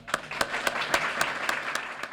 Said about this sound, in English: if we could have a round of applause for John